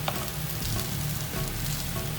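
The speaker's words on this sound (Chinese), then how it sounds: "锅中加入油，稍微多一点，把面放进去，不要马上翻面，煎一下，" Chow mein noodles pan-fry in a generous layer of oil in a wok, giving a steady, close sizzle with crackling spatter and no voices.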